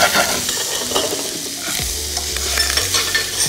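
Gyros spices fry and are stirred in a hot pan, a loud close sizzle with scraping stirs throughout and a low hum beneath.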